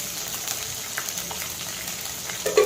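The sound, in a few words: mustard and fenugreek seeds sizzling in hot oil for tempering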